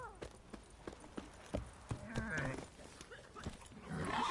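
Roach, a horse in The Witcher 3, gallops with a fast, uneven clip-clop of hooves, mid-distance and moderately loud, mixed with game sounds and background noise.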